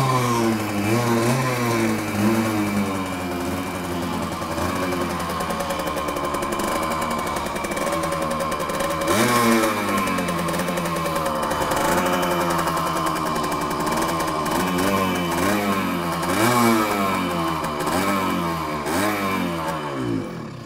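A moped engine that has been sitting unused over winter runs close by and loudly, revving up and down repeatedly with a rough, sputtering, uneven idle between the revs.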